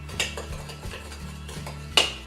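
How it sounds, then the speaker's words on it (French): Egg yolks being whisked with sugar in a bowl for a Valentine's dessert, the whisk clinking and scraping against the bowl in quick irregular strokes, close and fairly quiet, with a sharper knock near the end. "On va venir blanchir les jaunes d'œufs avec du sucre."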